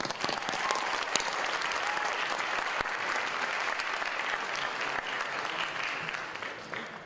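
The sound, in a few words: auditorium audience applause for Goldberg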